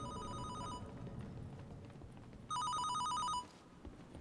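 A telephone rings in a horror video game map: two bursts of electronic ringing, the first fading then a louder second burst, over a low rumbling ambient background.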